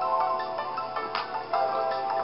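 A phone ringtone plays a steady, repeating electronic melody, loud and close, with no talking over it.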